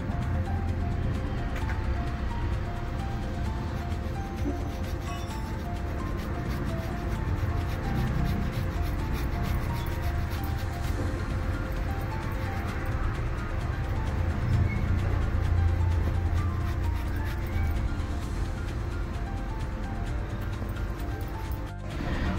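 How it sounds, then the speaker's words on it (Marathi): Potato grated by hand for fasting kachori, a continuous loud scraping rasp of rhythmic back-and-forth strokes, close up and steady throughout. "बटाटा किसूया."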